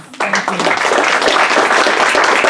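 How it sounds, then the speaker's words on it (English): An audience at a panel discussion breaks into applause right after a short spoken phrase. The clapping swells quickly into a dense, loud, sustained burst. "Please give our panelists a range of applause"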